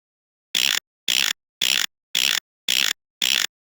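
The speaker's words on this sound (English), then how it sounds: "You cleverly loosen the bolts holding the filter tank's lid in place with your handy wrench." Six evenly spaced, identical ratcheting bursts from a wrench loosening the bolts on a filter tank lid in the Larry 6 video game, each short clattering rasp separated by a brief silence.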